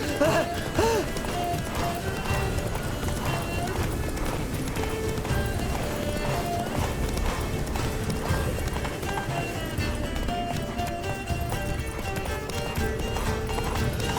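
Roach, a horse in The Witcher 3, gallops in a steady rhythmic clip-clop of hooves over a continuous game soundscape, with a brief whinny near the start and faint voices underneath.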